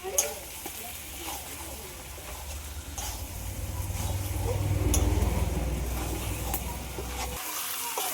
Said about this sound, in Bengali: এবার ভেজে রাখা আলুটা দিয়ে দেবো আরও কিছুক্ষণ কষিয়ে নেব